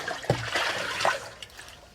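Liquid pours briefly in a couple of short splashing gurgles, close and fairly quiet, as day-old rice water (kanji) goes into a homemade organic fertilizer mix.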